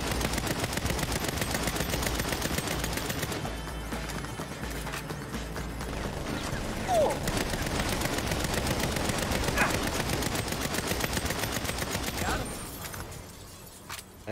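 Sustained gunfire in Saints Row with many weapons firing at once, a dense, relentless rattle of overlapping shots that barely lets up, with occasional louder reports and brief talk.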